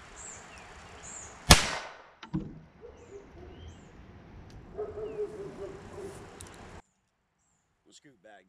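.22 long rifle round fired from an 8-shot pistol at Level IIIa ballistic armor, one sharp, loud crack that decays quickly, followed by faint handling noises and quiet background before the end.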